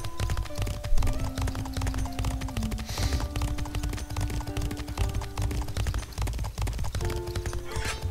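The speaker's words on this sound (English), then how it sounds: "Horsey cart." Horse-drawn cart in a video game, steady rhythmic hoof clip-clop under layered game music and sound effects throughout.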